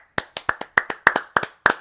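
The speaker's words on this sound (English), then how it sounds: "Let's give a round of applause for the NFL draft" About a dozen close, sharp hand claps from a single person come in an uneven quick rhythm, dry and alone, as a mock round of applause during a sports talk show about the NFL draft.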